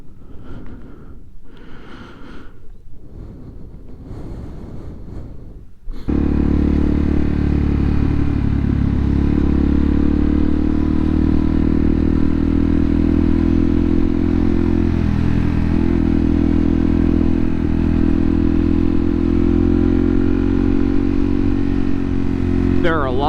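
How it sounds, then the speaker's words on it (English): A supermoto motorcycle fires up loudly after a few seconds of quieter rumbling and then holds a strong, steady engine drone as it rides off, close and dominant, with a voice faintly under it early on. "we're going to get on the bike and hit the next spot"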